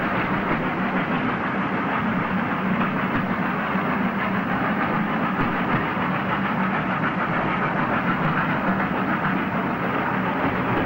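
A 1960s steam train runs through tunnels between Snow Hill and Hockley with a loud, steady roar and faint rhythmic rail clatter, echoing as if enclosed, with no talking.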